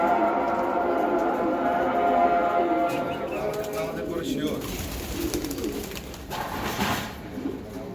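Pigeons at a breeder's farm coo in soft, rolling calls close by while someone talks over them.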